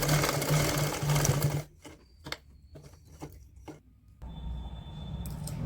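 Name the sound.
sewing machine double-stitching a woollen baby pajama seam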